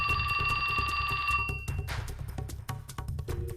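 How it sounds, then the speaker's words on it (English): A cell phone ringtone chimes in the video game 428 Shibuya Scramble, a loud, steady electronic ring over busy game music that cuts off midway as the music carries on. "a ringtone startled him out of his fury"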